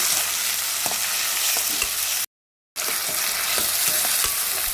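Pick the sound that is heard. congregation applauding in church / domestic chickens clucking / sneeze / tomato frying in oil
tomato frying in oil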